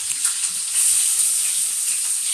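Onions fry with chowmein masala in a pan for Maggi noodles, giving a bright continuous sizzle and hiss up close with faint stirring knocks underneath.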